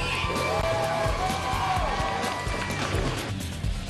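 A crowd cheers and whoops continuously at a Red Bull Last Man Standing extreme enduro race in Texas, a loud, dense roar with scattered shouts and a whistle-like tone over it.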